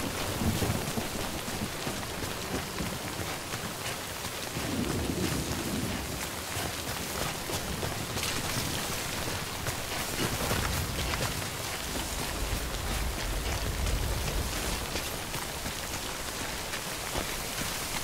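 Steady rain falling in the video game Death Stranding during the prologue, a continuous wash of drops with low rumbling underneath, at a moderate level and with no voices.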